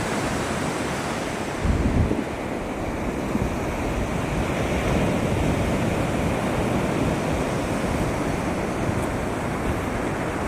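Ocean waves washing onto a white sand beach in Australia, a continuous loud roar of surf with wind buffeting the microphone and a brief heavier gust near the start, no voices.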